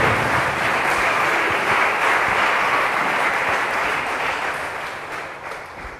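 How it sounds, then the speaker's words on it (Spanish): Church congregation applause during a sermon, a loud, continuous patter of many hands that fades slightly toward the end. "Dale un aplauso esta noche a Él."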